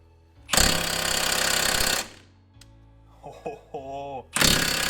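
A loud power tool hammers steadily on a 21mm socket, trying to loosen a rear subframe bushing bolt on a 1990–97 Mazda Miata, in two bursts separated by quieter clanks and rattles.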